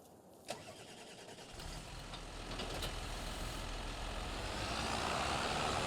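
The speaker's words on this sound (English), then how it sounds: "I'll again jump back to the John Deere tractor." A John Deere tractor engine starting on a farm during field work: a sharp click, a short crank, then the engine catches and settles into a loud, steadily building idle rumble.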